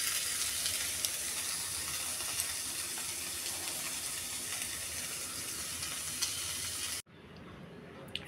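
Boiled, cleaned fish frying in a hot wok, a steady bright sizzle and hiss that holds evenly for about seven seconds, then drops abruptly to a quieter simmer.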